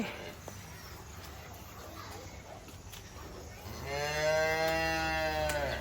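A cow lets out a long, loud moo near the end, following a stretch of quiet ambience in a cattle shed during milking on a rainy day, with faint background noise.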